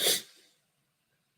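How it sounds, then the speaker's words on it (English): A single sharp sneeze heard through a wall bursts out and quickly trails off into silence, slightly muffled and distant. "I can hear her sneeze through the wall."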